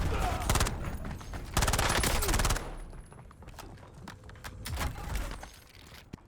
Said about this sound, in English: Hear gunshots right here